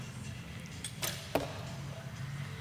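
A recurve arrow strikes the target at an Olympic recurve archery final, a brief sharp thwack standing out against a steady murmur of the indoor venue.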